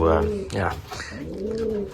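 Racing pigeons coo in a loft, with several soft throaty warbling calls close by that overlap with a person talking.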